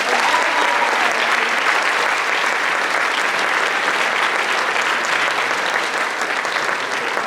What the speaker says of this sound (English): Let's thank them and give them a round of applause.